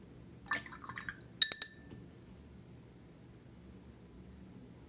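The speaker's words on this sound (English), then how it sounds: "And you can just add a little bit of water" Water being added to watercolor paint, heard as a few soft, brief liquid dabs and light glassy clinks, close and quiet, followed by near silence.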